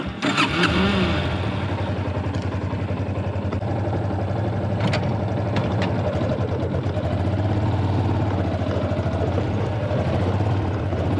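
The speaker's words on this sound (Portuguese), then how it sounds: "Agora eu vou levar a moto da Aline lá, que tá assando aqui no sol." A motorcycle engine starts with a sharp burst, then runs steadily and loudly throughout as the bike rides off, with a continuous close engine drone.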